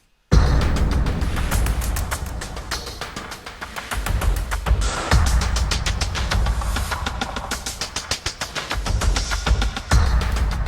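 Cinematic rhythm pulses from the Pinkertone Infinity Vol 1 toolkit, layered high and full rhythm patterns tapping in a fast, steady, clattering sequence, loud and dense, with a few brief breaks.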